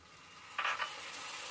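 Spice masala with chili powder sizzles softly in a pan, with a sudden brief hiss burst as a splash of water hits the hot mixture, then settles back to a faint steady fry.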